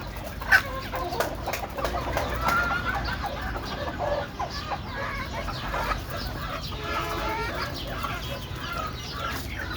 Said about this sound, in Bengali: এই যে দেখেন মুরগি খাটছে শোভন ভাইয়ে।